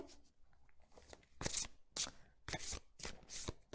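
Oracle cards being shuffled by hand nearby, a series of quick riffling, flapping bursts in an uneven rhythm, fairly soft and with no talking over them.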